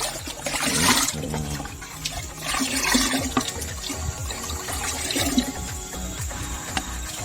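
Liquid fertilizer mixture sloshes and swirls as it is stirred in a container, producing irregular watery splashing surges that rise and fall, close and fairly quiet.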